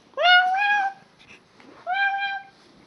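A cat gives two clear, drawn-out meows separated by a short pause, close and fairly loud against a quiet background.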